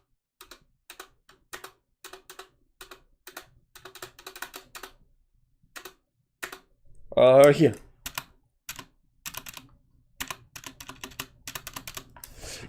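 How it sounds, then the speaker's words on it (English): Close clicky typing on a computer keyboard, a steady run of sharp keystrokes with brief pauses and one short spoken word partway through before the tapping resumes. "what keyboard are you using? Sounds pretty nice."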